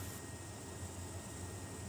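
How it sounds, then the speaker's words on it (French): Caracal military helicopter flying close to wildfire smoke over burning pine forest, a steady broadband rotor and engine roar holding constant throughout, distant-to-mid range with no pauses. "L'hélicoptère Caracal s'approche au plus près de ces fumées."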